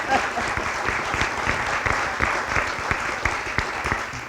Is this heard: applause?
yes